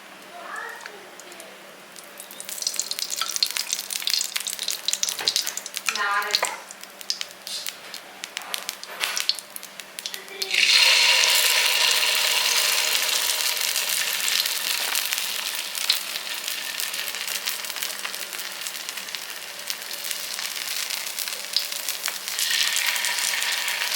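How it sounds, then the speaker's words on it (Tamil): Small rounds of adai batter poured onto a hot pan, with quiet scraping and handling at first, then a sudden loud, steady sizzle of frying that carries on close up to the end, with no talking. "இப்போ அடை வந்து இந்த மாதிரி குட்டி குட்டியாக நான் ஊற்ற போகிறேன்"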